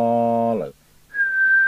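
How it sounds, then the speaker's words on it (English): A person whistles into the microphone of a Binatone Breakerphone CB27/81 UK FM CB radio during repair and alignment. After a brief voiced tone and a short pause, a steady, clear, close-up whistle is held. "Now I'm going to have to just do the whistle thing on this"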